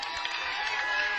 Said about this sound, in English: Marcus gets a nice round of applause